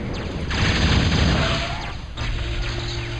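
Rapid energy-gun fire from Pee-wee kbot units in a real-time strategy game, a loud dense crackling burst of repeated shots over battle noise, easing off then resuming.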